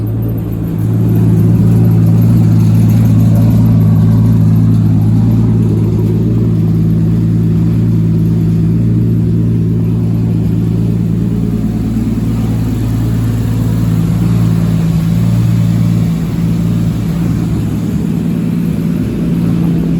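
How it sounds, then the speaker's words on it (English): A 1JZ-GTE big-turbo E85 engine in a Nissan Z32 drones loudly and continuously at high load on a dyno, a steady powerful roar with slight swells in pitch, close and dominant throughout. "The car's on the dyno."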